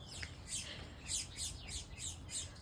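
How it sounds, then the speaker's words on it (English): Backyard birds chirping in spring, a run of quick high tweets repeating about every half second over a low background rumble, moderately near and steady. "we'll be doing this while watching birds in my backyard, because spring is coming and they're awesome"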